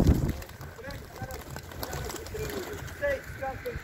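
Soft pigeon coos and fluttery calls over a busy background, with a voice speaking nearby; a brief thump at the start.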